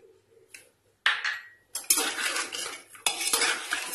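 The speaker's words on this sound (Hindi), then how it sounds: "इसे और 1-2 मिनट इसी तरह चलाते हुए भून लेंगे" A metal spoon scrapes and clanks against a pan while mutton is stirred and fried with black pepper and spices for bhuna gosht, with sharp close scraping strokes, faint sizzling and a few metallic knocks, no talking.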